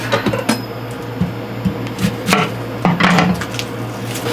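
A knife chopping half an onion on a cutting board in a boat galley, a steady series of sharp close taps against a low constant hum, with no talking.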